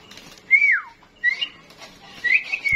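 A pet parrot whistles, imitating the song of a red-whiskered bulbul, giving three bright, clear rising-and-falling phrases spaced apart, close and loud against a quiet background.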